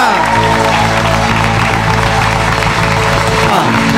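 Loud applause from a congregation at a Spanish-language church service, dense continuous clapping filling the space with music-like sustained tones underneath and some voices mixed in.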